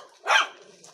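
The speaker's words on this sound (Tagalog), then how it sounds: "Ay aso, mahadlok ko." A single dog bark, close and fairly loud, from a dog in a backyard where the dog has recently given birth; one short burst stands out against quiet outdoor background.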